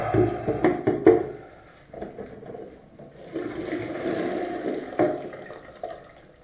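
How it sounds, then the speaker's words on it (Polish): A toilet flushes on a newly installed concealed WC frame, loud rushing water swelling then settling into a steady fill, with a few knocks and clunks from the fittings at the start, nearby and without talk. "Dobra, woda spuszczona."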